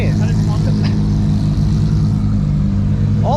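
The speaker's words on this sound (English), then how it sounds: "You can't even tell if they're turned on right now from how loud that Aventador is, especially with the turbos." Loud, steady engine roar from a Lamborghini Aventador with straight pipes and turbos, droning continuously and close by with people talking over it.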